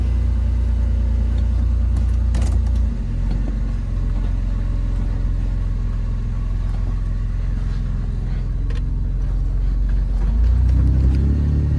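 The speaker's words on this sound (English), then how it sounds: "Truck drives perfectly normal again," A truck drives along after axle housing repair, its engine and road rumble deep and continuous from inside the cab, easing off briefly before picking up again near the end.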